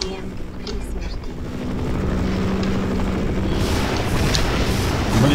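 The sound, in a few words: helicopter in the video game Half-Life Source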